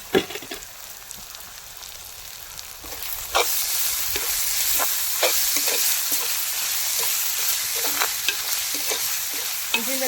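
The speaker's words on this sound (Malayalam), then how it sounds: "ഈ ഉള്ളി വഴുന്നതിന് ശേഷം ഇതിട്ട് കൊടുക്കുന്നതാണ് നല്ലത്" Onions sauté in a pan with added ingredients, a continuous bright sizzle broken by repeated scraping and clinking as the mixture is stirred, close and clear with no talking.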